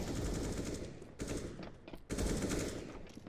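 AWP sniper rifle fire in a first-person shooter match: two sharp, fairly quiet reports about a second apart over a dense, continuous bed of game noise.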